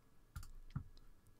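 A few quick, faint mouse clicks in a quiet room, spaced irregularly over a second or so.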